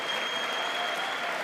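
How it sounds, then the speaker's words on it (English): Steady applause fills a joint session of Congress for Elon Musk, a dense, even roar of many hands clapping at moderate distance with no pauses. "Oh, they're clapping at Elon."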